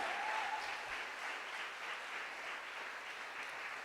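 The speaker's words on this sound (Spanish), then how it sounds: "Yo creo que Jesús se merece un aplauso por todo lo que quiere hacer con nosotros" Applause from a church congregation during a service, steady clapping from a sizeable gathering heard a little distant and fairly soft, lasting the full few seconds with no talk over it.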